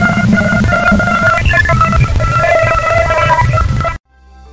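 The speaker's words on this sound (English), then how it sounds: "This is Jupiter's moon, which is known as Ganymede, and this is its sound, which is really going to give you goosebumps." NASA space recording of electromagnetic waves from Jupiter's moon Ganymede, a dense, loud, warbling electronic texture with whistling tones and crackle, continuous before cutting off abruptly near the end.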